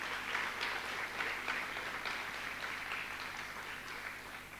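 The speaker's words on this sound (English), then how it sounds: "a huge round of applause for our students and our very dedicated art teacher." An audience at a secondary school annual day breaks into sustained, dense applause, steady and moderately loud throughout with no talking.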